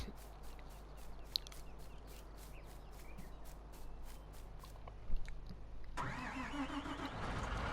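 A John Deere tractor engine in Farming Simulator 19 cranks and catches around the middle, then settles into a steady rumble, over a constant low mechanical hum with faint ticking in the background.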